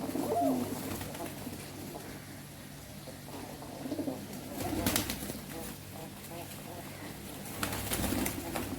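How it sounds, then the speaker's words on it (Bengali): Pigeons coo softly a few times against a steady, noisy outdoor background. "আজকেও এটা কতগুলো পায়রা এসছে দেখুন"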